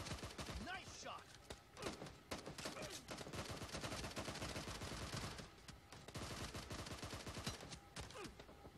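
Rapid gunfire from a team shooter video game rattles throughout as dense, overlapping bursts of shots, loud and continuous with only brief lulls.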